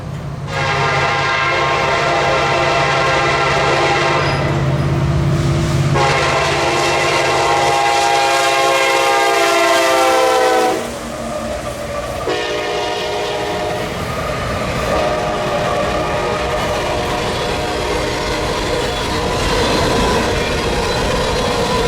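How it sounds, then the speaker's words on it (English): A northbound CPKC freight train races through Oil City with loud, close horn blasts sounding for most of the passage over a steady rumble of rail cars. "our northbound races through town, breaking the quiet nature of Oil City."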